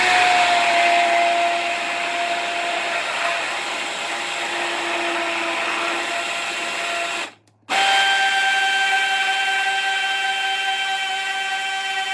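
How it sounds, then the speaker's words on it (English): A hand blender whirs through an ice cream base with a loud, steady motor drone and faint whine, cutting out briefly for a moment before starting up again and running on. "I'm going to use this hand blender."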